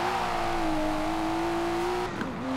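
A car engine in Forza Horizon 4 holds a steady, loud high-revving drone, then the pitch dips and climbs again as the driver shifts or lifts off the throttle, with no talking.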